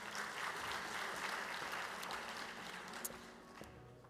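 Audience applause at a school district teacher of the year ceremony, steady dense clapping from a large crowd filling the room, holding an even level throughout and easing slightly at the end.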